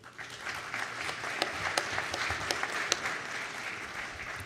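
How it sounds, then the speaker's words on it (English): Graduates and guests applauding at a fall college graduation ceremony, steady crowd clapping heard from some distance in a large hall, with a few sharper claps standing out. "I want y'all to give yourselves a round of applause for y'all's hard work."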